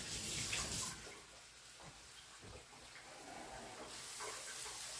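Tap water running into a kitchen sink while a sink plug is rinsed off during cooking, a soft, close hiss and splash that dips and swells, with no talking.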